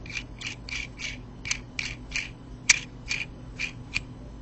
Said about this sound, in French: Si je viens visser le top cap,